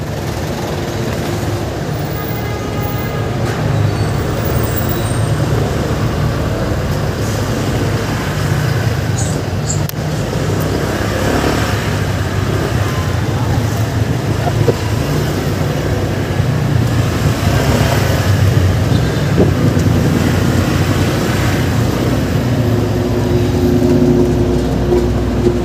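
Heavy road traffic with buses rumbles near West Avenue, Quezon City, a steady low engine drone with passing vehicles and occasional faint brake squeals, continuous and moderately loud.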